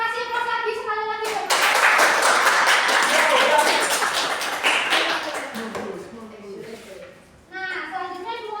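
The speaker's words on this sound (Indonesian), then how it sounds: "Kita kasih aplaus lagi sekali lagi" Classroom applause from a group of students, a burst of dense clapping that rises sharply and fills several seconds before thinning out, with a voice talking briefly before and after.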